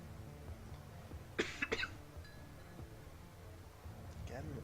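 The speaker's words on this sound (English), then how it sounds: "Again with the coughing, I am so sorry." A person coughs in a short cluster of sharp bursts mid-clip, quiet and close amid low background speech and a faint clink.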